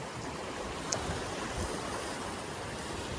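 Ocean surf rolls onto an uncrowded beach as a steady, broad wash of waves that stays fairly loud and close for the whole stretch, with no voices.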